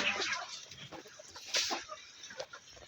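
Farmyard chickens cluck softly and intermittently, a few quiet calls overlapping at close range with no one talking.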